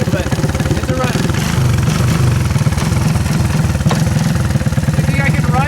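A smoky old three-wheeler engine fires on the first pull and settles into a steady, rough, close-up idle with a rapid pulsing beat.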